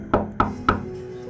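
Three loud knocks land on a door at an even pace, close and sharp, followed by a faint lingering hum with no voices.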